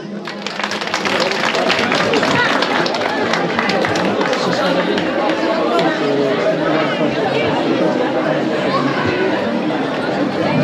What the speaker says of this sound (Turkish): Annelere bir alkış alabilir miyiz?